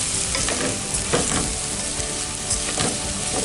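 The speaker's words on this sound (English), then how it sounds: "This is 2 cups of rice. Get a wooden spoon. Move this around." Two cups of dry rice toasting in a hot pan while a wooden spoon stirs it, giving a steady, close sizzle with soft scraping sweeps throughout and no voices.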